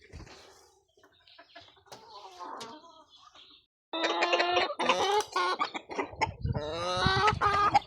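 Hens being let out of their coop on a Hungarian backyard farm in the afternoon cluck loudly and busily at close range, with a few rooster-like calls and some wing flapping, after a quieter stretch of faint scratching and rustling.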